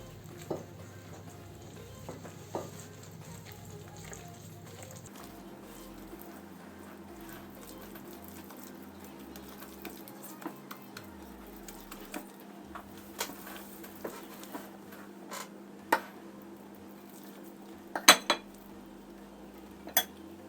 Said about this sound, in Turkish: Evet, karıştırıyorum.